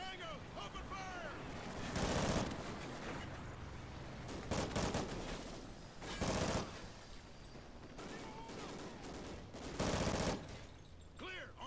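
Bursts of automatic gunfire in the Call of Duty: Ghosts shooter, several loud volleys spaced a couple of seconds apart over a low background rumble, with sparse voice chatter between them.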